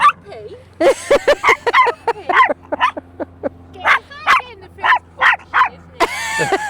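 A dog gives a rapid series of loud, close barks and high yips with whimpering notes in between, in a supermarket car park, while people talk briefly.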